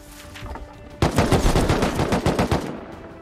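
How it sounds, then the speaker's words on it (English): Automated turret in the survival game Rust firing a rapid, loud burst of gunshots, preceded by quieter ambient game noise. "That was a turret shooting at me?"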